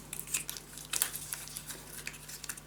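Scissors snipping through paper for a handmade scrapbook mini album, several quick crisp cuts in an uneven rhythm, close up and fairly quiet, with no talking.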